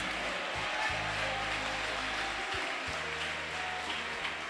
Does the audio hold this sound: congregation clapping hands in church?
yes